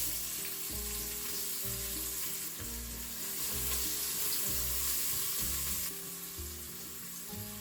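Onions and leeks fry in olive oil in a Crockpot Express pressure cooker on the sauté setting, a dense continuous sizzle with crackle, close and steady throughout, no voices.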